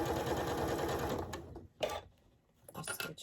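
A sewing machine stitches and back-stitches a fabric face mask, a dense rapid mechanical whirr that runs for over a second, then stops and restarts in short bursts, close and fairly loud.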